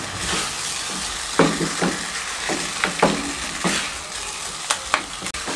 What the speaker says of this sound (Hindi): सब चीज़ों को अच्छे तरीके से मिक्स करेंगे। मीडियम फ्लेम पे 1 मिनट के लिए कुक करेंगे।